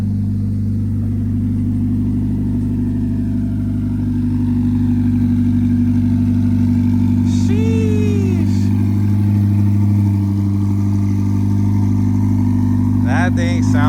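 A Ferrari race car engine runs with a loud, steady, deep idle hum close by, its tone holding for the whole stretch while people talk nearby.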